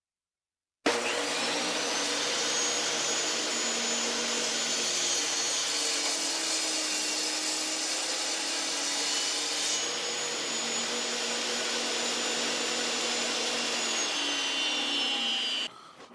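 A power saw runs continuously for about fifteen seconds while making a test cut in scrap plywood, a steady loud whine with a high tone that shifts partway through, ending abruptly as it stops.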